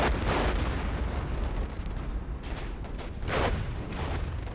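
Tank cannon fire and explosions in the World War era game Warfare 1944, heavy booming blasts with a rumbling low roar that swells twice over continuous battle noise, loud and dense with no talking.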